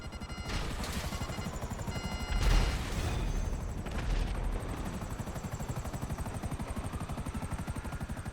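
Steady rapid thudding of helicopter rotor blades in GTA Online fills the whole stretch, with a couple of louder bursts like explosions partway through.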